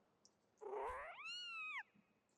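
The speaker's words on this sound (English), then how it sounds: "Oh, the cat." A cat meows in the video game Zelda Skyward Sword: one clear, drawn-out, rising-then-falling meow, fairly close and alone against a quiet background.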